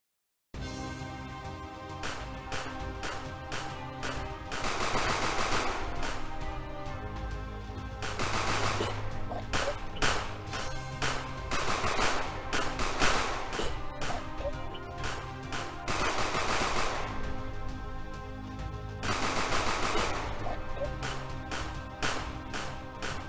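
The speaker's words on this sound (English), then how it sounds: "In the enemy's alarm 0, we can play the sound of the enemy's gunshot." Rapid bursts of enemy gunfire from a Game Maker top-down shooter game, loud repeated volleys of sharp shots in steady clusters across the whole stretch, with no talking.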